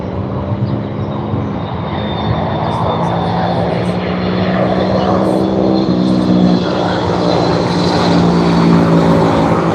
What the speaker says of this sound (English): here comes the Aer Lingus